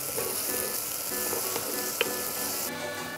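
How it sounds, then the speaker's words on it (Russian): Close, continuous sizzling of parsley stems frying in a pan, with occasional stirring scrapes and a brief tap near the middle. "И тоже добавляем на сковородку. Перемешиваем. Все обжариваем."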